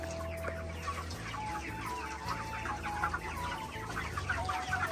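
Domestic chickens cluck repeatedly at close range, soft bursts of calls overlapping through the stretch with no talk.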